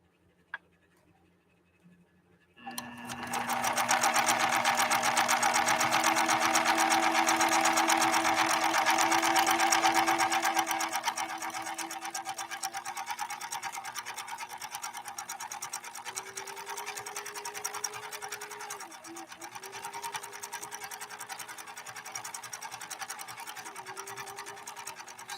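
A Pfaff 1222 sewing machine stitches after a brief quiet start, its close, steady mechanical whir and needle chatter running continuously, then easing to a slightly slower pace partway through.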